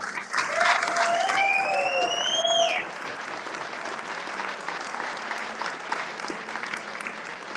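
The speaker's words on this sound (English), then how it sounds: "Give yourselves a massive round of applause." Audience applause at the Melbourne Firefighter Stair Climb presentations, a dense steady clapping from a crowd that fills the first three seconds, then eases to a softer continuing patter, with a whistle-like tone sliding over the start.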